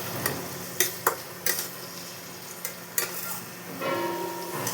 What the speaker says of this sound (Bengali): একটু ভাজা হয়ে যাক।